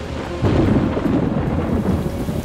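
A thunderstorm at sea aboard a rocking boat: a heavy rumble of thunder rolls in after a brief lull and merges with steady, dense rainfall, loud and close, with no one talking.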